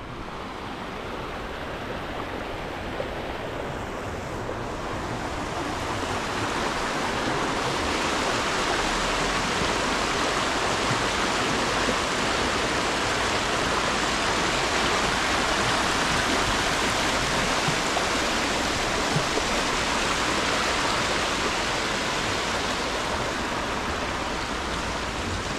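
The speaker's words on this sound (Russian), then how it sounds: "Шум горной речки." A rushing mountain river in Almaty on a golden autumn day, flowing about three metres below a roadside path, gives a steady, loud, broadband roar of water that continues unbroken, with no voices.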